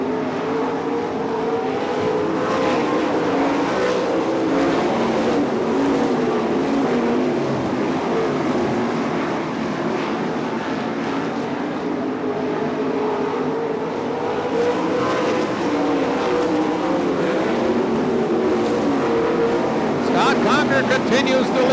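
IRA Lightning Sprints sprint cars roar around the track in a continuous, loud engine drone with shifting pitch as they race, under steady announcer commentary.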